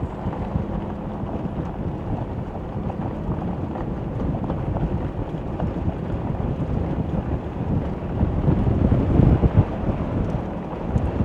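Steady wind buffeting the microphone outdoors in the Flat Tops area of White River National Forest, Colorado, a continuous low rumbling roar that swells louder near the end.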